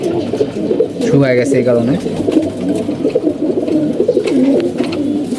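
Pigeons in a loft coo steadily in soft rolling, throaty phrases, several birds close by, while someone talks over them.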